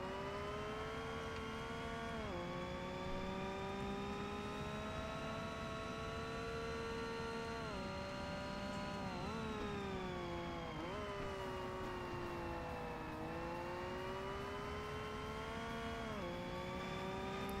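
Race car engines in Forza Motorsport, with American cars and an Acura NSX, drone steadily in a sustained, tonal whine that rises and falls with shifts and throttle changes, loud and continuous, with no talking.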